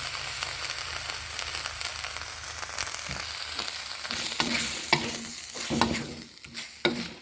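Coconut milk and curry paste fry in a pan for panang pork, a steady close sizzle with crackling and scraping stir strokes throughout, growing more uneven and clattery toward the end; no talking.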